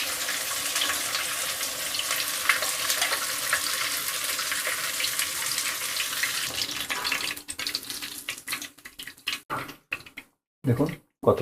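Rohu fish frying in hot oil, a steady broadband sizzle for several seconds that breaks up into scattered crackles and clatter as pieces are lifted out of the pan.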